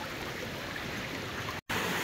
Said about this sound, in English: We found a little waterfall right here from the top.